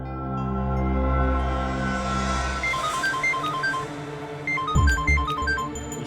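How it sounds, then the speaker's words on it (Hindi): A mobile phone ringtone plays a bright, repeating electronic melody in two short bursts over steady background music in a Hindi TV drama scene, with no talking. "उसी का फोन है।"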